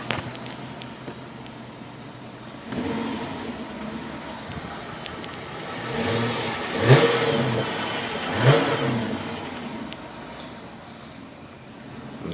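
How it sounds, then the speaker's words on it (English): Chrysler 300C Hemi with stock exhaust revving from idle: a low steady idle, then a rise into a sustained throaty roar and two sharp, loud blips close by, settling back toward idle. "I'll do a quick exhaust rev on the Chrysler 300C Hemi."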